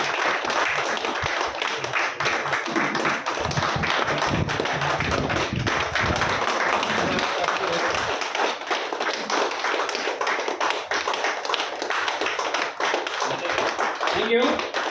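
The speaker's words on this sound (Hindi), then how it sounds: "तालियां रुकनी नहीं चाहिए।" Clapping from an audience at a training event in Surat, Gujarat, dense and steady through most of the span and fading slightly toward the end, with talk mixed in underneath.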